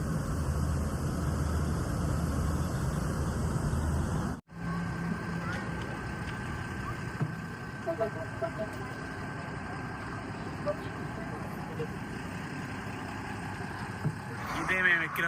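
A luxury executive AC bus from Tamil Nadu idles with a steady low engine rumble, then continues after a brief break more quietly, with occasional voices and small clanks.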